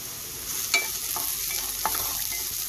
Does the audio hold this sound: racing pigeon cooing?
no